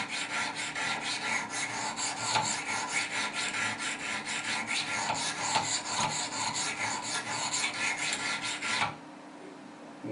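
Steady, rhythmic rasping strokes of a Wicked Edge sharpener honing the bevel of a Spyderco Paramilitary knife, close and continuous, stopping abruptly near the end.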